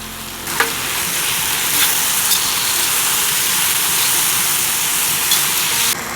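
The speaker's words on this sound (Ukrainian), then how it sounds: "Помідорчики обсмажуємо буквально 3-5 хвилин." Tomatoes fry in a pot with a steady, loud sizzle and hiss, broken by a few soft stirring clicks, with no one speaking.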